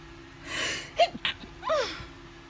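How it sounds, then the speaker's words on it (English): A single breathy intake builds into a sharp, close sneeze, followed by a short exhaled tail over faint background hum. "I feel like I'm about to sneeze."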